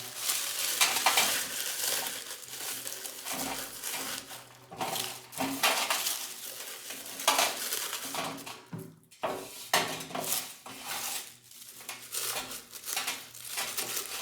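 Dry cured pipe tobacco being tipped and scraped into a container, crinkly rustling and light clinks of metal against the vessel, close and intermittent over several seconds.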